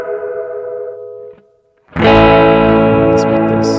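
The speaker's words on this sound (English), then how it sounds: "Let's start with echo and reverb at the same time." An electric guitar run through an effects unit with echo and reverb at once. A sustained chord rings and fades to near silence, then a loud distorted strum blooms with a long shimmering tail.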